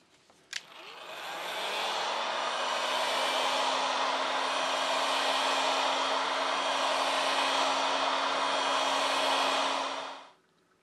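A heat gun warms the screen of an iPhone 12 Pro during a repair, starting with a click and then blowing a loud, steady airy roar with a constant hum for about ten seconds before it shuts off.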